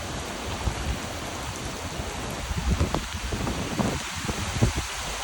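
Hurricane Ian's wind and rain lash a garden of bananas and pecan trees in Charleston, South Carolina, a constant wash of rain and rushing wind with irregular gusty bursts and rustling.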